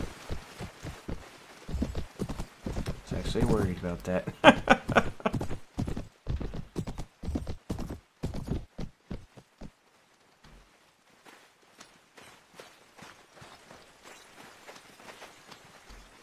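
Horse hooves clip-clopping in Mount and Blade: Warband Viking Conquest, a rapid galloping rhythm that is loud at first, then slows and fades to sparse, quieter steps, with someone talking over the early part.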